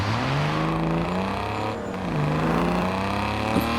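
A BMW E36 M3 straight-six in a racing video game, revving steadily under load and rising in pitch through the gears, with one brief dip as it shifts, loud and close with no talking.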